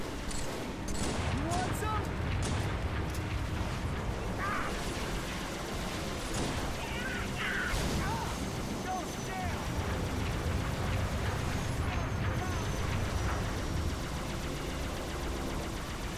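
Battle rifle gunfire in Halo 3, firing in rapid bursts over steady, dense game noise for the whole stretch, with voices in the background.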